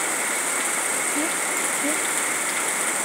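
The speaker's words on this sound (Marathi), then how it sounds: "बाई बाई बाई, काय पाऊस झालाय डेंजर" Heavy monsoon rain in Pune during a thunderstorm, heard from indoors by a window as a dense, steady hiss with no breaks, with a couple of faint brief voice-like sounds in the middle.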